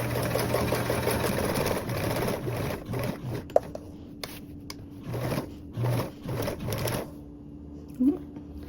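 A sewing machine stitches a tote bag in a steady run that breaks into short stop-start bursts, close by, with a few handling clicks and a voice speaking intermittently.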